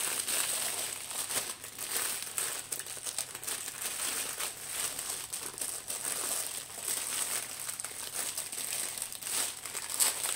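Plastic packaging of a 60 by 45 diamond painting kit being unwrapped up close, with continuous crisp crinkling and rustling that rises and falls for about ten seconds, no voices.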